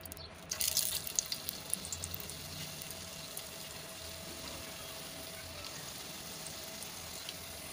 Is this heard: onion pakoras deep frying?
yes